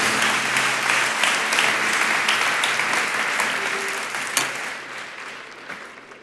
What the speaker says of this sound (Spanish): Dale un aplauso a estos valientes, sinceros.